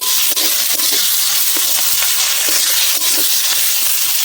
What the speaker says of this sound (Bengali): আর একটু দেবো, দিয়ে এবার ভালো করে কষিয়ে নেব